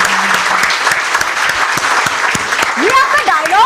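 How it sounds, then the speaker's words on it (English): An audience claps loudly and continuously through the whole stretch, dense applause at close range, with voices and a brief whistle-like tone rising over it near the end. "Can we clap?"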